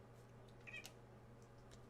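One brief, faint meow from a cat indoors over a steady low electrical hum, with no other sounds around it.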